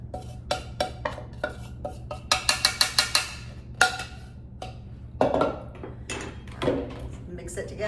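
Cake batter being mixed with dry ingredients in a bowl: repeated quick clinking strokes of a utensil against the bowl in rhythmic bursts, with a few heavier knocks, close and moderately loud.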